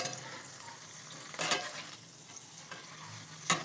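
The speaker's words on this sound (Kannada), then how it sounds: "ಎಣ್ಣೆಲಿ ಕರೆದು ನಿಮಗೆ ತೋರಿಸ್ತಾ ಇದ್ದೀನಿ" Leftover-rice snacks fry in hot oil with a soft, steady sizzle, broken by a few brief louder clinks or stirs close by.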